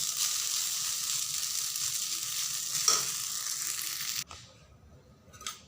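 Maggi noodles frying in a pan for an egg omelette: a close, steady bright sizzle with a brief stir, then the sizzle suddenly drops away near the end, leaving a faint scrape.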